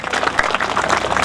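An audience at a memorial event honouring a fallen soldier breaks into brisk, dense applause, many hands clapping close and loud in a short continuous burst.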